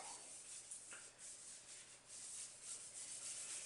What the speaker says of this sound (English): Start rubbing that polish into the blade.